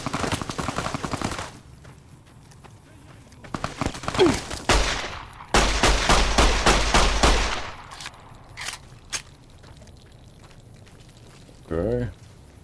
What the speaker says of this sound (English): A riot shotgun.